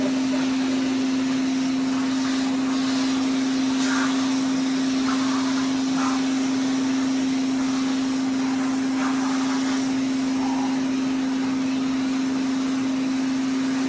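A 1959 Hoover Constellation model 87 vacuum cleaner runs with its hose in, giving a steady, loud motor drone with a constant hum and airy whoosh, alone and unbroken.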